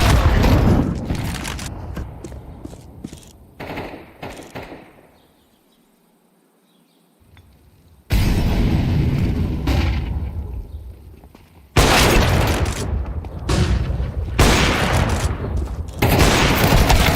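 In Counter-Strike 2, grenade explosions and gunfire come as loud, heavy bursts, separated by a quiet stretch and then resuming abruptly in repeated booming blasts.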